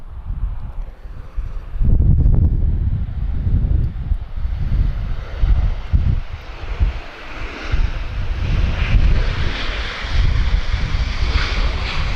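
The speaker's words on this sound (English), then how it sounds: "I like loud reverse thrust." A Ryanair Boeing 737 lands at Lisbon Airport, its jet engines roaring up in reverse thrust under heavy wind buffeting on the microphone, swelling and staying loud and steady through most of the stretch, fairly close.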